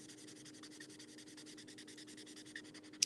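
Soft, steady scratchy strokes of an Ohuhu marker moving across paper while coloring, quiet and close, with a faint background hum and no talking.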